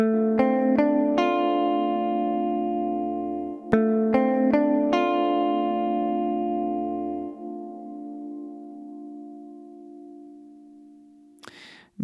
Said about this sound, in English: and then I'll pop in the reverb.